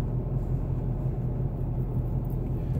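A Ford Mustang cruises down the road, giving a steady low engine and road rumble from inside the car, fairly quiet and constant with no talking.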